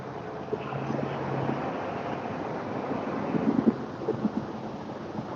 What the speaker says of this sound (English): Now it's getting windy again.